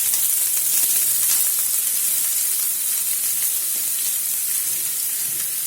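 Grated carrots hit hot ghee in a pan for carrot halwa, giving a loud, bright, continuous sizzle with steamy hiss that stays steady and close for the whole stretch, with no talk.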